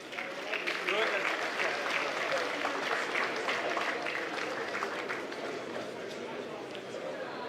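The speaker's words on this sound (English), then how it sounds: "So I want you to give a robust round of applause to the Secretary General of the AFCFTA Secretariat, His Excellency Wamkele Mene." An audience at the Afreximbank 2025 annual meetings applauds a speaker being introduced, a dense, sustained crowd clapping that holds steady and fades slightly toward the end.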